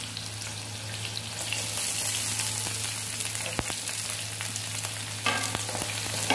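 Dried red chillies fry and get stirred in a pan for a tomato egg curry: a close, steady hiss and sizzle with occasional scraping clicks from the spoon.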